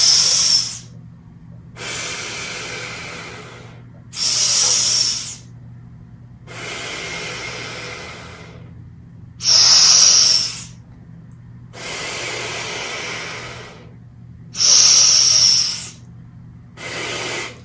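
Slow, deep breaths through a breathing exercise device during Covid recovery, alternating loud, hissing inhales with softer, longer exhales in an even cycle of about seven breaths, very close to the listener.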